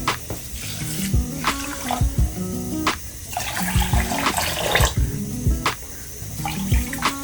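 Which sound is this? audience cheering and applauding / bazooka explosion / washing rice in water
washing rice in water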